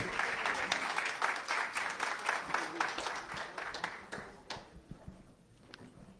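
Seminar audience applauding a speaker at a project closing event, sustained crisp clapping from a room of people that fades and scatters into a few last claps.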